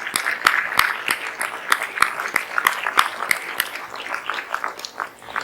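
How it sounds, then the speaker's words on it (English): Conference audience at a health gathering on American Indian topics claps for the organizing team, a loud burst of sharp, scattered hand claps that keeps a loose uneven rhythm and gradually thins out. "Can we give them a round of applause?"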